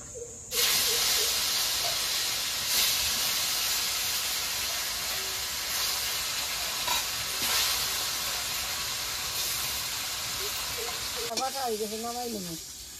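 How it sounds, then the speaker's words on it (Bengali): Pieces of chitol fish fry in hot oil in a pan, giving a steady loud hiss and sizzle that runs almost the whole time, with a brief voice near the end. "এবার বাকি মাছগুলো এভাবে ভেজে নেব"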